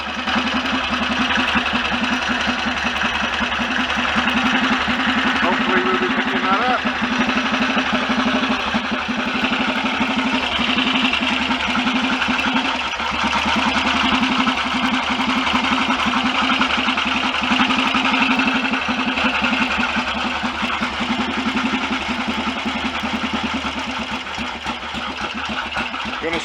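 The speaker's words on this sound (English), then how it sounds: "The engine seems to be going well enough" A BSA DBD34 Gold Star 500 scrambler engine runs steadily at a fast idle close by, a continuous throbbing mechanical thrum with a faint rubbing undertone and no voices over it.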